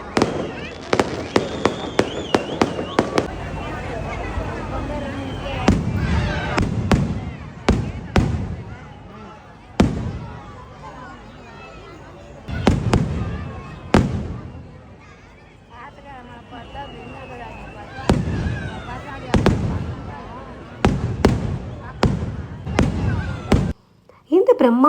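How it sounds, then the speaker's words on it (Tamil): Firecrackers burst in sharp, loud bangs, sometimes in rapid strings and sometimes singly, over a rumbling crowded background with voices at a temple festival in Sivakasi, India. "பட்டாசு போட்டு ஜமாய்ச்சிட்டாங்களே"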